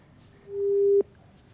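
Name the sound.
phone line tone after call is cut off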